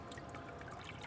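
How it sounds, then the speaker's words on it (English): Water drains out through the soil of a freshly watered potted plant, making a faint, steady trickle and dribble with no voices over it. "And you can hear the water draining away."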